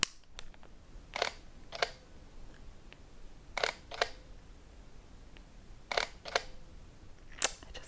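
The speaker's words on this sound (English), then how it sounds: "I love the sound of the shutter. Let's just take a listen." Shutter of a Sigma SD Quattro H camera in manual mode, released about eight times in irregular pairs and singles, each a crisp close mechanical click against near silence.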